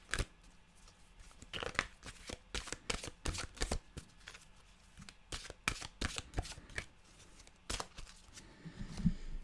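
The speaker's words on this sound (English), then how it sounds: "Let's get a mantra card, shall we?" A deck of mantra cards being shuffled by hand, a quick irregular run of crisp riffling and flicking bursts, close up and alone with no talking.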